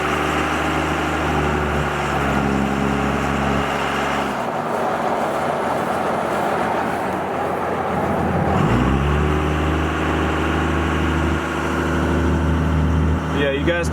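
A 24v Cummins diesel engine idles in a truck with a brake light and ABS fault, its steady low rumble running throughout with a brief dip in tone midway.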